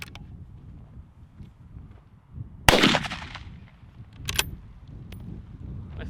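A single sharp, loud report from an unsuppressed .308 bolt-action rifle fired outdoors, followed by a short decaying echo, with another fainter crack a moment later.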